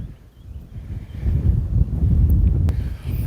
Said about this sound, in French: je me tourne parce qu'il y a un vent